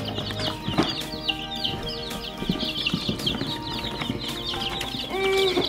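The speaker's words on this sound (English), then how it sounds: "you saw that we got a few chicks" A small flock of young chicks and other fowl fills the space with dense, high, overlapping peeps and chirps, close and lively, with occasional rustling and a few lower clucks underneath.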